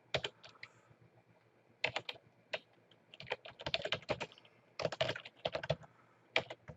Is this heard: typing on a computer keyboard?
yes